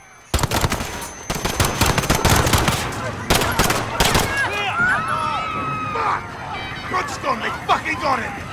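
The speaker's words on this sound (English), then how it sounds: "Shots fired." Rapid automatic gunfire in Call of Duty Modern Warfare during a police raid at Piccadilly Circus: loud, close bursts of shots dominate the first half, then ease off under shouting voices and background commotion.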